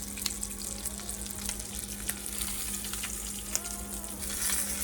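Breaded pork chops fry steadily in a pan, giving a dense, continuous close sizzle with scattered pops and crackles and a low steady hum beneath.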